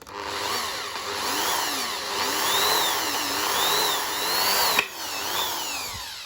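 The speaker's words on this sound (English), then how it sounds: "Always good to have a sharp drill bit." A sharp bit in a power drill whines steadily through material while working on a KTM 250 EXC motorcycle, its pitch rising and falling in repeated sweeps before a sharp click and a brief, fading tail.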